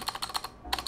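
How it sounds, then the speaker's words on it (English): A Thunderobot KC3068 wireless RGB mechanical keyboard is typed on in a quick run of keystrokes, crisp clacks with a slight stabilizer rattle, close-up and alone. "They do have some rattling, but that's actually common with keyboards like this"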